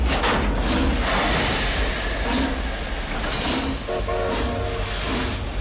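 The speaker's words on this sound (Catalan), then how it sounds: "El tren ha frenat de cop" A train brakes suddenly, rumbling with wheels squealing against the rails and metallic clatter, loud and close throughout, with no voices.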